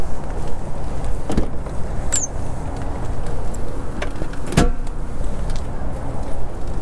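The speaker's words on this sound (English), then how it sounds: "Pop your trunk while you're at it" Trunk of a 2008 Lincoln Town Car Signature L popping open, heard as a couple of short mechanical clunks over steady outdoor background noise.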